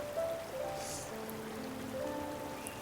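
A flowing stream in the relaxing game Babbling Brook gives a faint, continuous trickling wash under soft sustained musical tones, with no one speaking.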